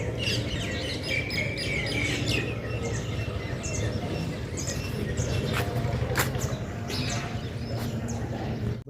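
Parrots call with short chirps and squawks as they fly over a wheat field in the open countryside. The calls are scattered and come from varying distances over a steady low background rumble.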